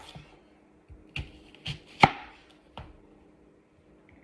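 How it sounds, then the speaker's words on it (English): A knife chops food into small pieces on a board, with about six distinct, uneven thuds at close range over a quiet background and no talking. "So I cut my shit up a little small."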